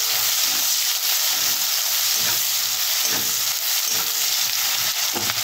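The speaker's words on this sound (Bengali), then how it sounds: "ভালো করে পেঁয়াজটা লাল লাল করে ভেজে নেব বন্ধুরা।" Onions fry in hot oil for a bitter gourd dish. The sizzle is loud, dense and continuous, with soft stirring pulses underneath and no talking.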